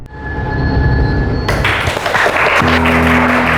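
Loud, dense applause from a crowd during a Crime Patrol crime drama episode, beginning abruptly and continuing steadily, with a low tonal hum joining partway through.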